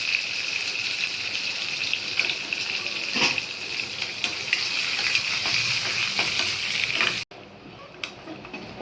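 Curry leaves and asafoetida crackle in hot oil for a Tamil-style arai keerai kadayal, a steady hissing sizzle that cuts out abruptly near the end and drops to a faint residual hiss.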